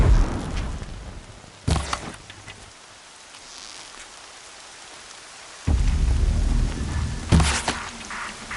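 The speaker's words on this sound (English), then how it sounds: "Been waiting for rain." Rain pours steadily across a stormy landscape in Horizon Zero Dawn, with two deep thunder rumbles rolling in close, one early and a louder one near the end, and a quieter lull between them.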